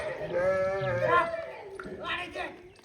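Sheep bleat several times up close on a farm as the flock arrives to drink water, wavering calls one after another with a voice talking over them.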